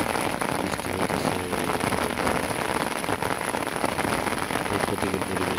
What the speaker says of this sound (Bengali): বৃষ্টি হতেছে।